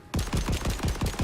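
Rapid automatic gunfire from a weapon in the video game Borderlands 4, about seven evenly spaced punchy shots in quick succession, close and moderately loud, with no talk over it.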